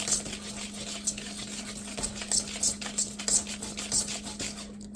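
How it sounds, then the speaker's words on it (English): A spoon stirs pumpkin bread batter in a bowl with soft, rhythmic rubbing and scraping strokes, close by and fairly quiet over a low steady hum, with no talking. "Mix this up."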